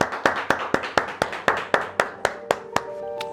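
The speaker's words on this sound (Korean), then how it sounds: "박수로 하나님께 감사드립니다." A church congregation claps in steady unison, about four crisp, evenly spaced beats per second, with a sustained instrumental tone rising softly underneath toward the end.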